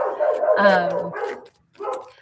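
A pet dog gives a short run of tonal, sing-like howling yips close by, with a brief pause before another vocal burst.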